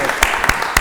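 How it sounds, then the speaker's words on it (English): Brief applause breaks out at a Lowell city council meeting, three short bursts of clapping rising over a steady room murmur. "I want to give you a round of applause."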